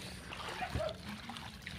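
People wade through water, sending up splashes and trickling sloshes in a steady wet churn, with one sharper splash near the middle and faint voices mixed in.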